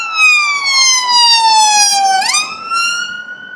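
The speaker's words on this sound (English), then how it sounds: "The ambulance." An ambulance siren wails loud and close, a steady tone gliding slowly downward before jumping back up, with no voices.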